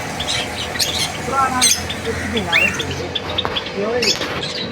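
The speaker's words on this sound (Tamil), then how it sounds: "ஜோடி ஜோடியாக இருக்காங்க அழகா ஜாவா பறவைகள்" Java sparrows chirping in a pet shop, with scattered short chirps and squawks from several birds amid shop background noise and people talking.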